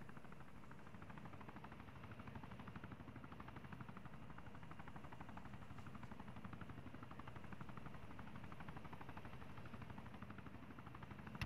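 A helicopter in the ArmA 3 video game, a steady rapid rotor chop with engine whine holding at even volume throughout, no talk.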